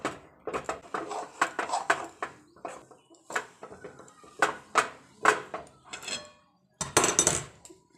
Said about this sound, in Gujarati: એ ચાસણીમાં આપણે મિક્સ કરી લઈશું